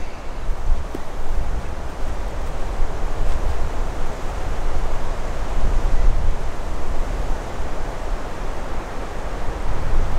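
Steady wind blows across a seaside golf course, a loud continuous rush with microphone buffeting, no talk.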